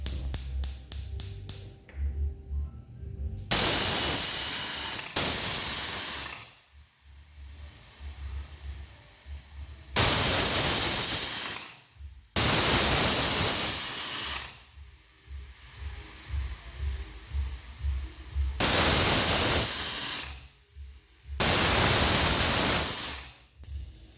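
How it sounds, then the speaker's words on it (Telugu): A pressure cooker of rice on a gas stove whistles repeatedly, each loud burst of hissing steam lasting a second or two, six bursts in all, with quieter bubbling and rattling between them. "ఇప్పుడు ఈ కుక్కర్ని అయితే మనం గ్యాస్ మీద పెట్టుకొని ఒక 5 విజిల్స్ వచ్చే వరకు అయితే ఈ రైస్ను మనం ఉడికించుకుందాం"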